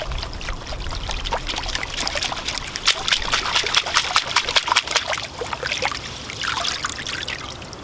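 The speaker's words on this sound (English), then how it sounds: "I'll give the roots a wash now. Swish it around." Bonsai roots from a large native red maple are swished around in water, giving close, irregular trickling, sloshing and dripping sounds that rise and fall in bursts.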